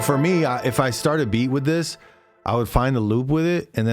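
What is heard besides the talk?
No everyday noises stand out.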